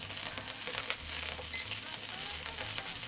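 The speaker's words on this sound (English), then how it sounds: "get those peppers sizzling over medium-low heat for about a minute" Steady, soft sizzling of bell peppers frying over medium-low heat in a pan, a continuous crackle with light stirring and no voices.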